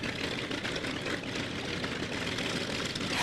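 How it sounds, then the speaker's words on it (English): Martin Mars flying boat's big piston engines running, a dense steady propeller and engine roar filling the whole stretch, loud and close, no talk. "she slips her moorings and the engines roar to life one by one"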